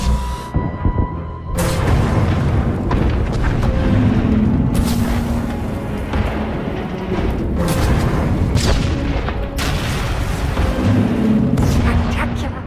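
A firing failsafe sets off explosions in a Star Wars video game, a chain of heavy booms and rumbling blasts running throughout, loud and dense, with a voice talking over it.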